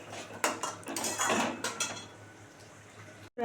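Utensil scraping and clinking in a pan of mustard tilapia fish curry, a quiet run of short metallic stirs and taps, close and alone, ending abruptly.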